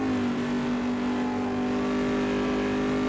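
Simulated GT1 race car engine at Le Mans in Assetto Corsa, a loud steady high-pitched drone with sustained harmonics while overtaking a Dodge Viper at sunset, with no talk.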